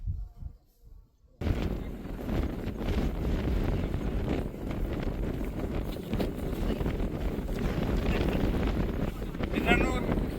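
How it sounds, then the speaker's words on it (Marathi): Cold wind roars across the microphone on the hilltop of Jivdhan Fort during a monsoon trek, a constant buffeting rush after a brief quiet start, loud and unbroken. "गडावरती थंड थंड वारा सुटलेला आहे"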